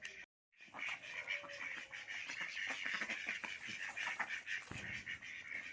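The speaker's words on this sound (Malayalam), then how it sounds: "രണ്ടാൺ താറാവും 2 പെൺതാറാവാണ്." Four domestic ducks, two drakes and two hens, quack repeatedly and close by near a tarp-lined pond, with a continuous noisy background.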